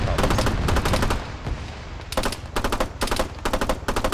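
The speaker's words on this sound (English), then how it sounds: "I'm expending a lot of ammo that I probably shouldn't have" A SPAR 16 rifle in Arma 3 fires in rapid bursts of closely spaced shots, loud and near, with a brief pause before several more quick volleys.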